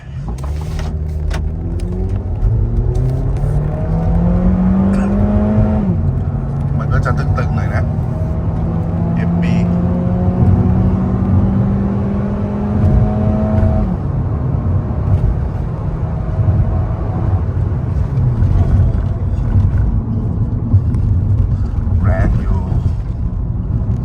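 Tuned Ford pickup on gasohol 95, air conditioning on, in drive under real load during a speed test, accelerates loudly with engine pitch climbing through gear changes, a sustained roar close to the microphone with someone talking over it.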